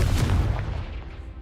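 The Confringo blasting spell in Hogwarts Legacy lands as a heavy, booming explosion, loud and close at the start, then a rumbling tail that fades over about a second.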